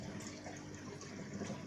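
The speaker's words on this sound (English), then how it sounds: "the overflow flows down through there and then falls down into the tank" Water from a reef aquarium's overflow falls into the tank below with a constant soft splashing trickle, steady and fairly quiet at close range.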